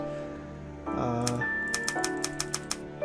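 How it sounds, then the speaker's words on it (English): Keys clacking on a typewriter in the video game What Never Was, several crisp, evenly spaced strikes over a sustained musical background. "Type on the typewriter."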